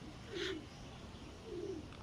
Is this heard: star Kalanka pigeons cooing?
yes